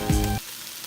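Vegetables and stalks sauteing in a hot pan give a brief, loud, close sizzle with a sharp clatter at the start, then drop quickly to a faint hiss.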